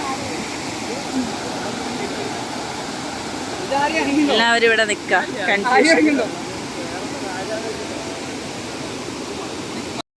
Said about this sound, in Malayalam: ഇവിടെയൊക്കെ നല്ല ഒഴുക്കാണ് കേട്ടോ